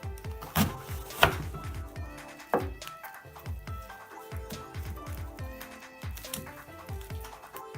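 Carrots being chopped into small pieces on a cutting board for homemade horse treats, a knife tapping in quick uneven strokes up close, moderately loud, with no talk.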